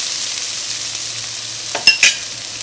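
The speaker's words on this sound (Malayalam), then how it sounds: "സവോള ഇട്ടിട്ട് അങ്ങോട്ട് ഇളക്കിയിട്ടുണ്ടെങ്കിൽ ഇതേപോലെയുള്ള കടുക അല്ലെങ്കിൽ ഉഴുന്നോ അങ്ങനത്തെ സാധനങ്ങളൊന്നും കരിഞ്ഞു പോകില്ല." Onion, mustard seeds and urad dal frying in a pan for rava uppumavu, a steady close sizzle with a few sharp scraping stirs near the end, no talking.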